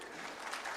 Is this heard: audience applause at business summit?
yes